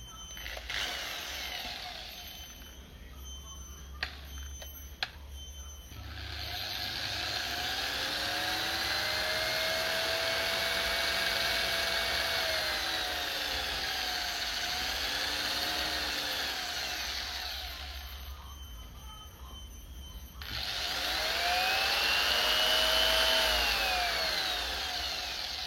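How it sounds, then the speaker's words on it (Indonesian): An electric drill with a 2 mm bit bores into material, its whine rising and falling in two long passes separated by a brief pause, close and loud with a low motor hum. "Mata bor yang saya gunakan ini mata bor ukuran 2 mili ya."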